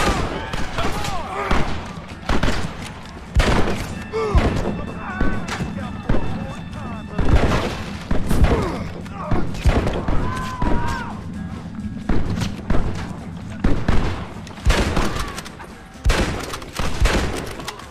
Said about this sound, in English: Blow that gate open.